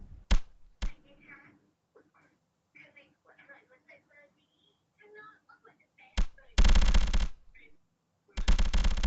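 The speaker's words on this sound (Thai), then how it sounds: "ยิงค้างนะครับผม ยิงเราค้างทุกคนนะ" Bursts of automatic gunfire in a shooting video game, a couple of sharp shots early, then two long loud sustained volleys near the end, with quiet game chatter and soft sounds between.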